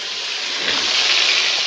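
Food sizzles in hot oil, a loud, steady frying hiss that runs unbroken throughout.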